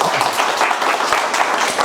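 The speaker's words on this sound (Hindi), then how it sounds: "एक बार जोरदार ताली बजा दो भैया सब।" Group applause from a mobile repair training class at a New Year greeting, a steady dense patter of clapping hands filling the short moment with no talk over it.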